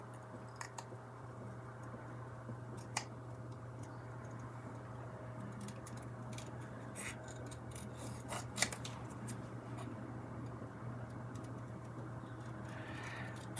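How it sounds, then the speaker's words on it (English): Scissors snip steadily through card, giving soft, close, repeated cuts over a constant low background hum, with no voices. "it's just easier to cut out when you've got less card to cut around."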